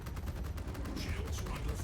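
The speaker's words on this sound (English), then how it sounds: "Definitely can hear PDCs doing stuff." Point defense cannons firing in the video game Star Citizen, a continuous rapid rattling barrage with low rumbling thumps, steady and loud throughout with game noise layered over it.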